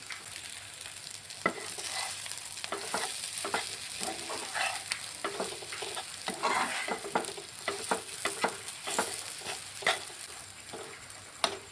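Potato filling fries in a pan over low flame, a steady sizzle broken by frequent sharp scrapes and taps of a spatula stirring it, close and continuous.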